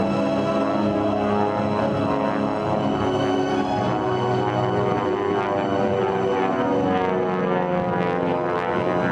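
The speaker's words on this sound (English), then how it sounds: "the incredible twin Beech 18" A twin-engine Beech 18 performing aerobatics at an air show, a loud, steady radial-engine drone with a rich harmonic hum that holds close and constant throughout, the pitch shifting slightly as it passes.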